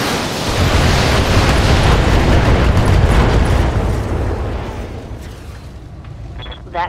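Weapons fire and impacts in the video game BattleTech make a heavy, roaring barrage of booms that lasts several seconds and then fades. Faint electronic tones follow near the end.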